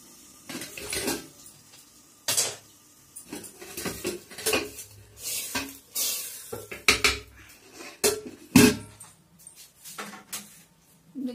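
Metal utensils clank and scrape against a cooking pot in irregular knocks and clatters as burnt tempering is stirred into dal with mixed vegetables, close by.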